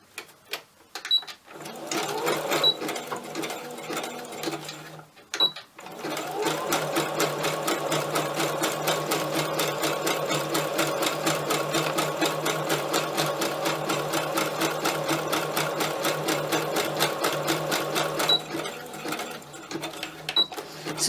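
A home sewing machine runs a wide zigzag stitch across small fabric scraps, with a fast, rhythmic clatter that continues steadily for about twelve seconds, framed by brief starts, stops and handling noises.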